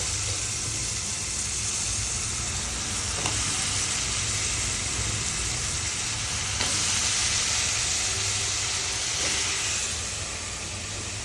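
Potatoes tipped into a hot pan of oil for a potato methi curry, giving a steady close frying sizzle that holds throughout with a few soft stirring knocks.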